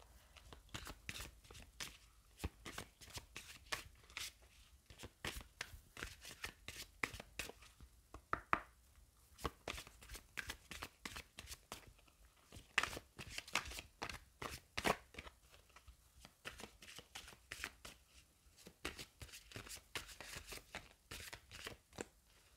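A deck of Pays Imaginaire oracle cards shuffled by hand for a reading, quiet but close, a long run of dense papery riffles and taps with brief pauses in between.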